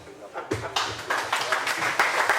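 Applause from a crowd at an annual general meeting builds after a brief pause, steady clapping filling the room, fairly close and moderately loud.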